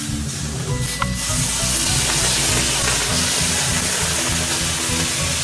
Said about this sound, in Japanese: 蒸気が来ません か